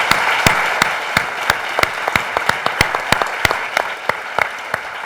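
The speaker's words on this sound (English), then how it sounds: "let us all just join in a final round of applause for Charles" An audience applauds after a film screening, with sharp individual claps standing out over a softer bed of crowd clapping, loud and near for several seconds.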